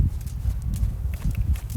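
Hooves of a horse moving on a lunge line during groundwork, a steady run of close, dull thuds on soft ground with a low rumbling rhythm and no talking.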